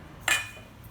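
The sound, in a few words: metal plate fitted onto chakli mold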